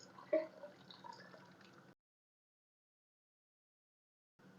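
Fried masala poured from a pan into beef paya gravy, a soft wet glop and trickle lasting under two seconds with a brief louder splash near the start, followed by silence.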